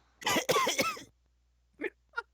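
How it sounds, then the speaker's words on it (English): A burst of harsh coughing, several quick rough pulses close by, followed after a pause by two short, lighter coughs. "That sounded like a laughter cough."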